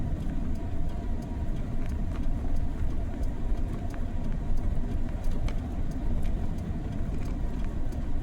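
A John Deere 4440 tractor runs with a steady, low diesel rumble at constant speed, with faint light clicks rising above the engine drone.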